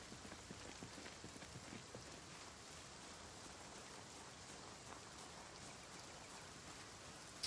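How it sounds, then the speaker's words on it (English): Steady rainfall in the Project Zomboid video game, a dense, continuous patter of drops hitting surfaces that holds at an even level throughout with no voices. "Alright, it's raining."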